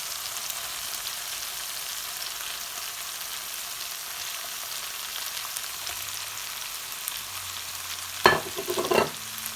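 Stuffed brinjals frying in a pan over medium-low gas, a steady soft sizzle throughout, with a few brief clattering knocks near the end.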